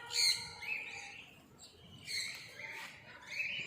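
Plum-headed parakeets in a walk-in aviary giving high, sharp chirping calls in short repeated bursts, fairly faint and close, with some low background rustle.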